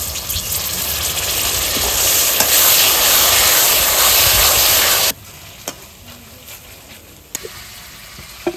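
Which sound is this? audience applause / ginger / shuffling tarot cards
ginger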